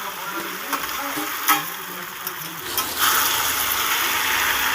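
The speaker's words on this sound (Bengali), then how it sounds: "গ্যাসের স্টিমটাকে মিডিয়ামে রেখে সুন্দর করে আমি নেড়ে চেড়ে ভেজে নিচ্ছি" Boiled mixed vegetables, added after frying fish-head oil for a Bengali chorchori, are stir-fried in a pan over medium heat, with a steady close sizzle, scraping stirs and a louder burst of frying near the end.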